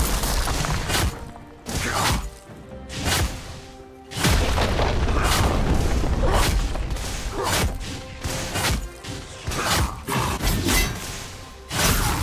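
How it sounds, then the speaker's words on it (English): A turret being destroyed in League of Legends: repeated heavy booms and crashing impacts, loud and close, in irregular bursts over a constant roar of combat effects, with no talk. "Red team's turret has been destroyed."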